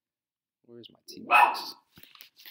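A dog barks a few times in quick succession, close by, while a person speaks over and around the barking.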